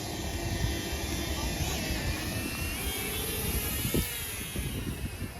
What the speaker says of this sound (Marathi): आता ड्रोन कसा उडल हे बघा